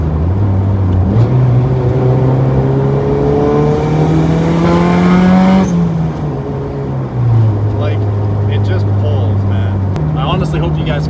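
A turbocharged Honda Civic EG hatchback accelerates hard from inside the cabin, its engine climbing in pitch through the gears with a drop at each shift. The engine note is loud and close, with occasional talk over it.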